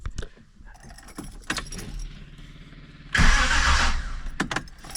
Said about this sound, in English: So it does crank easily.